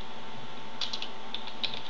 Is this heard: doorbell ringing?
no